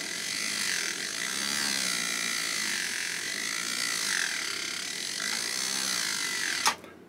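Leather, jewelry and woodworking tool edge being sharpened on a powered sharpener, a steady close buzzing whir with slight wavering tone, ending in a brief sharp click.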